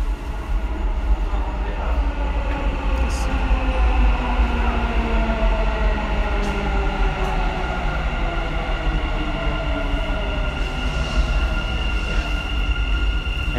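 A Dubai Metro train pulls into the Burj Khalifa and Dubai Mall station with a loud, steady rumble and a rising whine of the motors and wheels, continuous throughout and close by.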